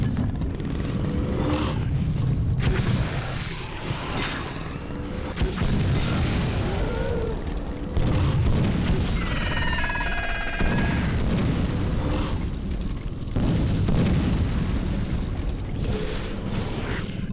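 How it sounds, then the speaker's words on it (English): Booming explosions and clanking mechanical noises from the video game Clive Barker's Undying, repeated irregularly over a dense, loud game soundscape with a few chirping tones. "Random explosions. Where are they coming from?"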